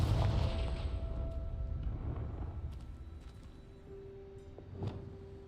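Booming blasts from the Confringo explosion spell in the video game Hogwarts Legacy, a loud burst at the start that fades to a rumble, then a few sharper cracks and tonal effects, with no talking.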